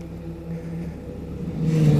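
A Honda CB1100 motorcycle engine hums at a moderate idle, then swells into a rising rev as the heavy bike pulls away, heard close with no voices.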